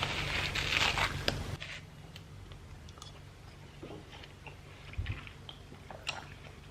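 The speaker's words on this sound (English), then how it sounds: "listen to the crunch" Crunchy chewing close to the mic: a loud burst of crisp crunching at first, then softer irregular bites and munches.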